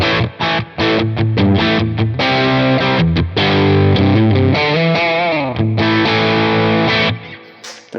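A heavily distorted Fender American Vintage II Stratocaster on the bridge pickup plays choppy chords and short riffs, loud and saturated, with brief gaps between bursts.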